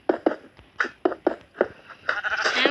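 Short bleating animal calls from the Minecraft video game, given as cows, sound in a quick series of about eight bursts, clear and close with no talk over them.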